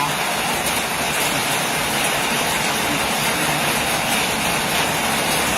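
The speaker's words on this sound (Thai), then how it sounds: "ตอนนี้ฝนก็ยังไม่หยุดตกนะคะ" Rain falling in a garden near a star gooseberry tree, a dense, constant hiss of steady downpour that stays loud and even throughout without speech.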